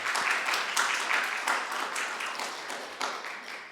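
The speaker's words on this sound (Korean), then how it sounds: "우리 같이 위로의 격려의 박수 한번." A church congregation applauding during a Sunday service, steady dense clapping that gradually thins and fades toward the end.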